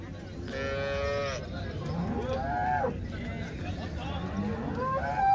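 Cattle low and moo at a busy Sunday cow market where buffaloes, bulls and HF and Jersey calves are sold, several drawn-out calls close by over the murmur of the crowd.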